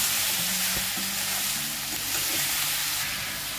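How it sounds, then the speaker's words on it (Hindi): Tomatoes sauté in a hot pan for a Malai Ki Sabji curry, giving a continuous close sizzle and frying hiss with a few soft stirring knocks. "अब हम नेक्स्ट इंग्रेडिएंट मिलाते हैं जो कि है टमाटर, और इसे हल्के हाथों से सॉटे करना है हमें।"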